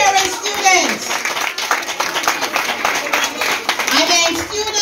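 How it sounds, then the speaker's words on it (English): Parents clap for students at a primary school carol service, a dense, loud patter of hands in the room, mixed with children's voices and an adult talking. "I want you to clap the students"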